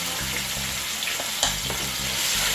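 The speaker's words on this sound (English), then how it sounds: "it's now time for me to go ahead and put my natural season to saute" Scallion, thyme, scotch bonnet pepper and onion sauté in a pot, a close, even frying hiss with a brief stir or clink partway through.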